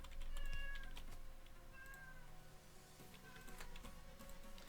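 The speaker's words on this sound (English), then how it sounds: "You just sit there and meow at me and get upset that I don't respond." A cat meows three times, each short, whiny call fairly faint against a quiet room with scattered soft clicks and taps.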